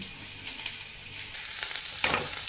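Onions frying in a pan for a vegetable curry: a steady close sizzle that swells louder near the end, with a brief stir and scrape partway through and no talking.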